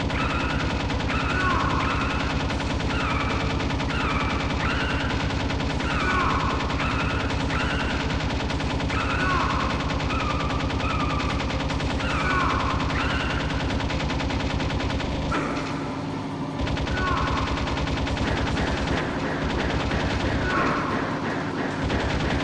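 Continuous heavy machine-gun fire in Metal Gear Solid, a loud, dense rattling roar sustained for about twenty seconds with repeating chirping tones layered on top and a brief dip near the end.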